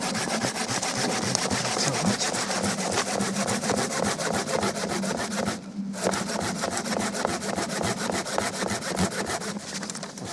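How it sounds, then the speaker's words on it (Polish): A bushcraft hand saw cuts through solid wood in steady, rapid back-and-forth strokes, rasping and rhythmic, with one brief pause partway before sawing resumes close to the microphone. "ta piła no to już potrafi naprawdę wyciąć dosyć solidne drzewo"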